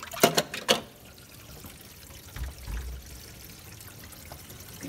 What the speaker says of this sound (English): So now we're going to unplug the sink so all that water is going to flush down all at once.